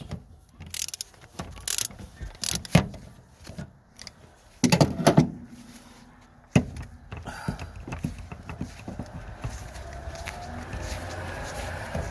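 A 21 mm socket wrench ratchets on a long-unused Standard Triumph 8 803cc engine: clicking ratchet strokes come in short irregular bursts with metallic clanks and handling noises between them, close by.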